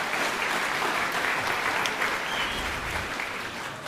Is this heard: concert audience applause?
yes